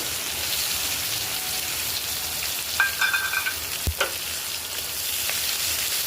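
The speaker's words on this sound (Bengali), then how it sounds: "এবার কুচনো পেঁয়াজটি আমরা একটু লাল লাল করে ভাজবো" Chopped onions hiss and sizzle steadily in hot oil already seasoned with bay leaf, chilli, cardamom, cinnamon and cloves, with a few brief utensil clinks and scrapes in the middle; no voices.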